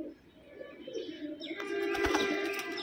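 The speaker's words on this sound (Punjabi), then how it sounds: "ਬੜਾ ਸ਼ਾਨਦਾਰ ਕਬੂਤਰ ਜੇ ਭਾਈ" A prized slate-grey kamagar pigeon coos softly, a few low murmuring calls, while a second, louder stretch of bird sound swells up toward the end.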